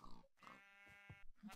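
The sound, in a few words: pig grunting in Minecraft video game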